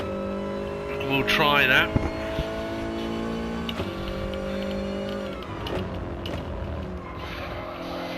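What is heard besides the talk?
Toyota car engine shifting gears at Laguna Seca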